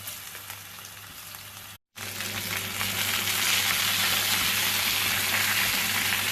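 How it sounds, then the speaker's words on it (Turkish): Steady, loud sizzling of potatoes frying in hot oil, a dense crackling hiss that briefly cuts out, then returns slightly louder and continuous. "Patatesleri şöyle bir azıcık kızartacağım."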